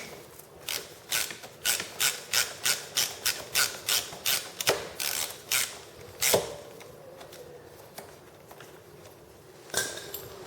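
A torque wrench tightens a bolt on a BMW R1200GS motorcycle, giving about a dozen evenly spaced ratcheting clicks and rasps, followed by a few isolated clicks.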